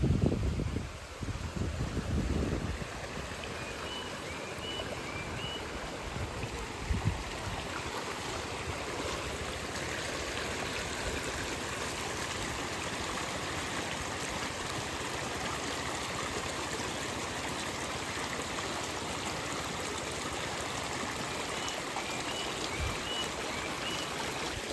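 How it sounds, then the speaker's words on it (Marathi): Bundles of rice seedlings washed in a flowing stream during rice transplanting in a Konkan village, a continuous rush and trickle of water with a few splashes near the start, steady and moderately loud, no talking. "आता पेंडी धुवून घेत आहेत."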